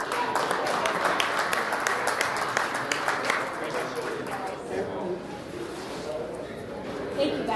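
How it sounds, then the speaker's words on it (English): An outdoor crowd at a fishing tournament weigh-in gives a round of applause, scattered claps strongest at first and then thinning, with voices talking over it. "So give John a round of applause"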